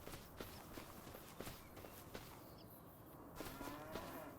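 Cattle in the Farming Simulator 25 video game give faint, distant moos over a steady game ambience, along with soft, intermittent footstep-like thuds.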